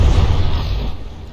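A deep, rumbling boom of a video game battleship explosion in From the Depths rolls out and fades over a second or so, loud and low like a distant explosion.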